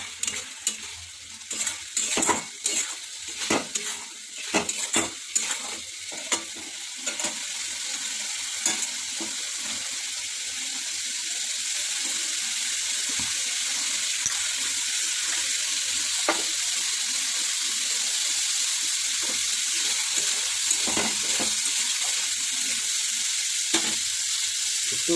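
Boiled eggs fry and sizzle in a curry pan over a gas flame turned up high, starting with clinks and stirring clatter, then a steady close hiss of frying oil with occasional scrapes.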